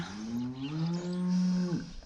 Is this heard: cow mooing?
yes